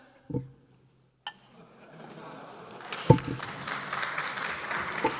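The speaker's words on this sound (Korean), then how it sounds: "저 본회의장에서 박수 치는 거 아닙니다" Applause from lawmakers in the National Assembly plenary hall starts after a few isolated knocks, then swells into a sustained, dense clapping that carries to the end.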